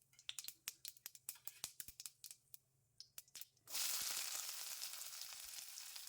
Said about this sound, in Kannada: ಕಲರ್ ಬಿಟ್ಕೊಳ್ಳೋ ತನಕ ಎಣ್ಣೆಯಲ್ಲಿ ಫ್ರೈ ಮಾಡ್ಕೊಳ್ಬೇಕು